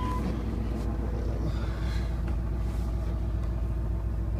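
A 2001 Ford F250 Super Duty with a 5.4 engine and 264,974 miles runs at a steady idle, a constant low rumble close to the microphone with some wind buffeting and no voices.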